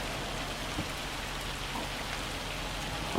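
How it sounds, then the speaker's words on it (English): Hail falls in the farming video game Farm Sim 25 as a dense, even patter across surfaces, a constant steady hiss of impacts with no gaps for the whole few seconds. "This hail was meant to have stopped around 12 o'clock, wasn't it?"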